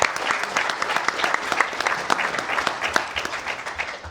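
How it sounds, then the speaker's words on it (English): At a game press conference, a crowd gives a hearty round of clapping for nine contest candidates, many distinct hand strikes blending into a lively, moderately loud patter that thins slightly toward the end. "How about a nice round of applause?"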